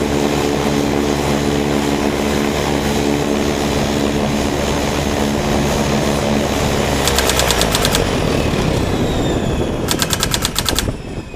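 Propeller-driven T-34 trainer aircraft on the flight line at Naval Air Station Corpus Christi, Texas, run with a loud, steady droning engine tone, joined near the end by short bursts of rapid rattling.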